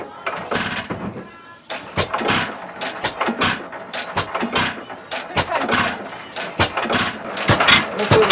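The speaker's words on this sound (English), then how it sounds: "This is a 1917 Hercules 7 horsepower engine" A 1917 Hercules 7 horsepower antique engine with a magneto runs at a seafaring museum village, firing in sharp, uneven pops and thumps with short gaps between, fairly close, with some talk mixed in.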